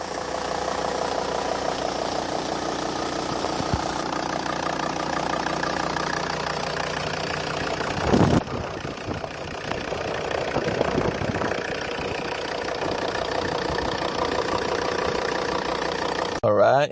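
A white 2004 SsangYong Rexton RX290 4WD diesel idles steadily with its bonnet open, a continuous mid-low engine drone with a faint knocking edge that holds at an even level throughout, briefly disturbed near the middle.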